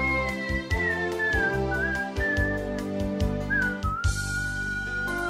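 A man whistles a melody over a backing track, the clear sliding whistle line carrying through the whole passage with steady loud accompaniment beneath.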